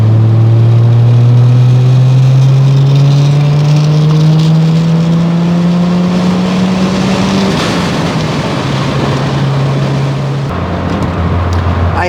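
Turbocharged Mazda RX-7 FC rotary engine pulling hard on a mountain touge road, loud and close, its droning pitch climbing steadily through a gear before dropping as it shifts and settles.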